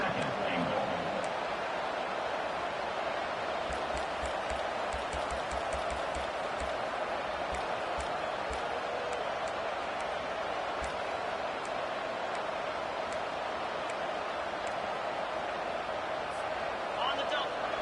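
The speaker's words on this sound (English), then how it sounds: "And the crowd really making some noise now, trying to help out this defense to get this stop near the goal line." A steady, loud stadium crowd roar fills a College Football 25 video game as the defense tries for a goal-line stop, holding a constant din throughout while a commentator's voice talks over it.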